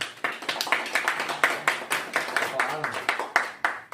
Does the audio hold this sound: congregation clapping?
yes